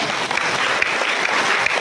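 Steady, dense applause from a church congregation fills the space, a continuous broadband patter of many hands clapping with no pauses and no talking over it.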